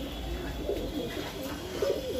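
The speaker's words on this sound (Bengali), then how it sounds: "এই যে এখানে রেসার কবুতর আছে" Racer pigeons in a loft coo softly and repeatedly, a low throaty murmur that is steady and close, with no voices over it.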